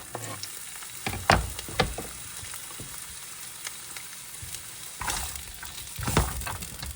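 Carrots stirred and tossed in a hot oiled pan while making fried rice, giving a steady soft sizzle broken by a few sharp scraping clatters near the start and again toward the end, with no talking.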